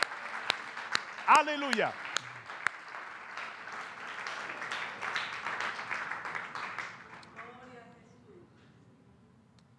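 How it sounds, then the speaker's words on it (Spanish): Church congregation applauds for the Lord, a burst of clapping under a speaker's voice that swells and then fades toward the end. "Den un fuerte aplauso al Señor."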